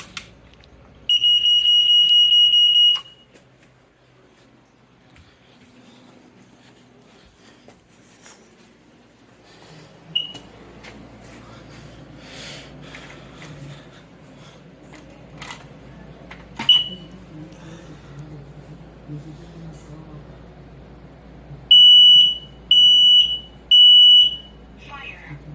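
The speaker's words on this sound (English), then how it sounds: "smoke detector test." A smoke detector alarm sounds during a routine weekly test, giving a loud, piercing beep at the start and three short repeated beeps near the end, with quiet talk and household noise in between.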